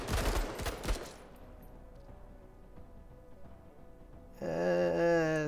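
A quick burst of rapid gunfire from the strategy game Menace opens loudly, then fades into a quiet lull before a tonal, siren-like game sound swells up at the end.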